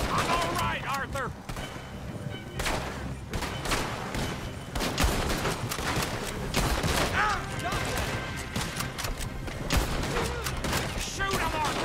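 Gunfire shootout in Red Dead Redemption 2, with dense overlapping shots and bursts running throughout alongside a wagon chase, while voices shout and talk over the fighting.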